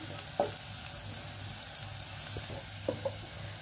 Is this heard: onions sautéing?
yes